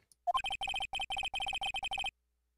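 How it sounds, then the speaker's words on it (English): A cell phone rings in the Phoenix Wright: Ace Attorney Justice for All video game, a bright, electronic chiming ringtone that trills in rapid bursts of repeated notes, loud and alone for about two seconds. "That's my phone."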